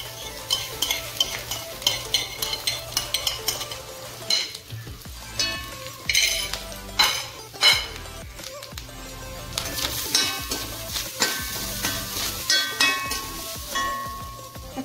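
Kappa biriyani, a Kerala dish of tapioca with coconut and curry leaves, being stirred in a pot: repeated scraping and clinking strokes over a steady sizzle, close and fairly loud, with no talking.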